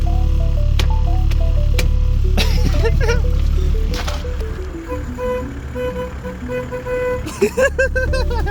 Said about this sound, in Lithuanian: Tai yra šitas mašinas pypsas